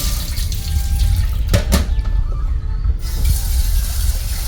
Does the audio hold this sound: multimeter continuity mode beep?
no